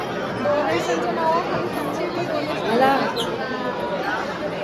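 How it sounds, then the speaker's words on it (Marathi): Dense crowd chatter from a busy tourist trip around Lonavala, many overlapping voices forming a steady babble close by, with no single voice standing out for the whole stretch. "खूप गर्दी आहे."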